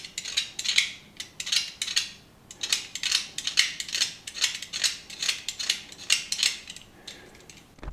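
Wood pieces for a DIY rack unit being shaved down by hand, a series of short scraping strokes in an uneven rhythm, close and fairly quiet with no talking.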